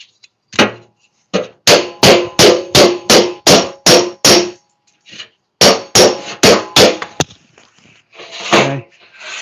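Sharp hammer blows on a Porsche RSR flare panel being flattened before welding, fast rhythmic bursts of close, loud metallic strikes separated by short pauses, with a few lighter taps between them.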